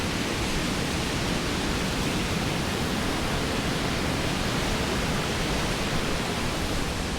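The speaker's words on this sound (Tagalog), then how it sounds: "Woo, waterfall." Waterfall rushing with a dense, constant roar of falling water, loud and unbroken throughout.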